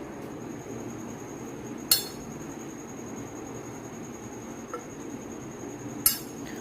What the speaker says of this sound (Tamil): நீங்கள் அந்த பாகை எடுத்து கையில் உருட்டி அந்த தட்டில் வெறுந்தட்டில் போட்டிங்கன்னா சத்தம் வரணும்